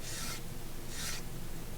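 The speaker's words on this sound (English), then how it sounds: "sand it to look nice" Sandpaper rubbing the wooden body of a guitar kit, two short rasping strokes in a slow rhythm, close and fairly quiet.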